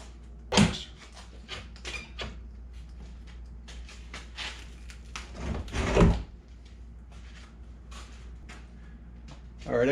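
A door on a 1997 Argo Conquest amphibious vehicle is lifted off its pins, giving a couple of loud close clunks and rattles amid scraping handling noise while someone talks.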